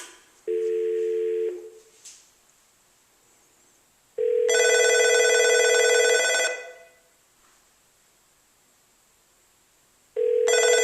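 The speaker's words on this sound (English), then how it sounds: "See, so now it's just ringing straight into the phones, no auto attendant involved." A Nortel office phone system ringing straight through to the handsets, electronic ring bursts of about two seconds separated by silent pauses, with a faint steady tone in the background.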